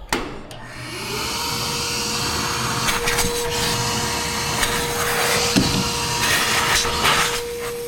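A ShopFox dust collector running outdoors and drawing through a shop vac hose, giving a loud, steady whooshing roar with a sustained whine and a few brief knocks, heard close with no speech.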